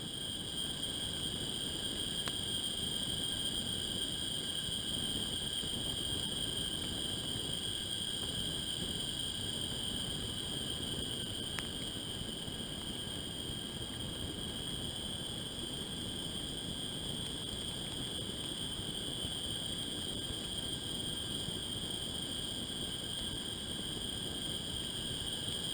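Frogs call at night in a Taiwan forest, a dense, steady chorus of high, continuous trilling that holds unbroken throughout, with no voices.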